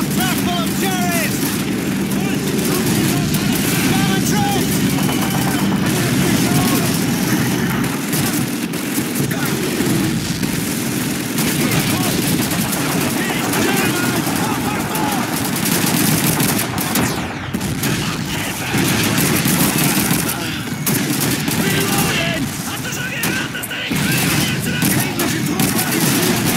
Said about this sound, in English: It's an MG-42!